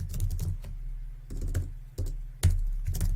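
Rapid keyboard typing in uneven bursts of clicks, close by, with brief pauses between runs of keystrokes.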